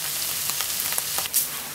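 Onions browning and caramelizing in a pan for homemade burgers give off a soft, continuous frying hiss, broken by a few light scrapes of stirring, fairly quiet and close with no voices.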